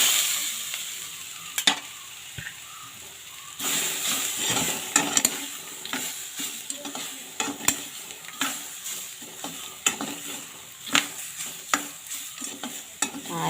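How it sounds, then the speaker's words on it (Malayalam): Ground green chili and garlic paste hits hot oil with popping mustard seeds in a Kerala pan, sizzling steadily while a spoon stirs and scrapes, with sharp clinks of utensil against the pan throughout. "കടുകൊക്കെ വഴന്ന് വന്നിട്ടുണ്ട്. ഇനി നമ്മൾ ഇതിനകത്തോട്ട് ഈ അരച്ച് വെച്ച അരപ്പൊന്ന് ഇട്ട് കൊടുക്കാം."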